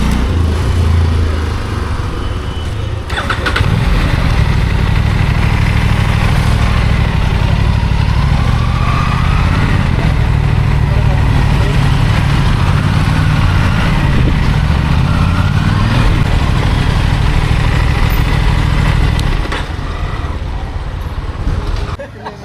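A motorcycle engine idles steadily and close by at a crowded outdoor celebration at Raigad Fort, a continuous low rumble holding for most of the stretch before easing off near the end.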